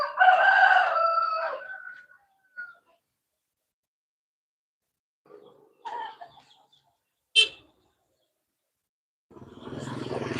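At a cockfight, a rooster lets out one loud, close crow. Sparse short clucks and bird noises follow, with near silence between them.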